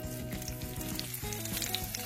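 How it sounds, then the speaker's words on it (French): Makroud pastries frying in hot oil, a continuous close crackling sizzle with small pops and bubbling, no voices. "je vais les tremper dans l'huile."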